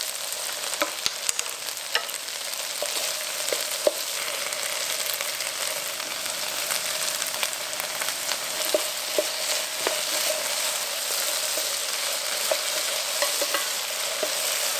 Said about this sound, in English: We're gonna continue to stir and cook this on medium-high heat until it's about halfway cooked